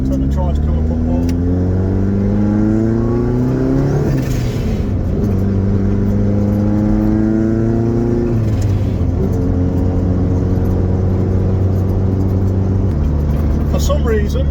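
A Vauxhall Nova GTE fitted with a C20LET 2.0 16V turbo engine revs up and down close by, its loud rising and falling engine note swelling in repeated sweeps over a steady running base.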